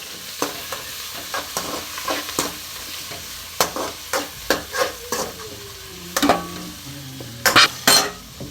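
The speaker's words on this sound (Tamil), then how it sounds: "இப்போ நம்ம அது எண்ணெய் போட்டு கடுகு போட்டு வதக்கிக்கலாம்" Mustard seeds sautéing in hot oil in a pan for a kootu kuzhambu, with crackling sizzle, sharp utensil taps and scrapes against the metal pan, and a few clinks near the end, close by and without talk.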